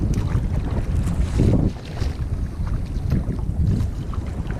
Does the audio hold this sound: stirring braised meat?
no